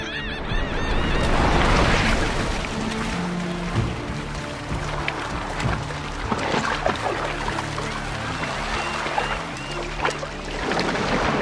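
Herons and gulls call over a shallow riverbank while dolphins hunt fish, harsh repeated cries layered over splashing water and a steady wash of movement, fairly loud and busy.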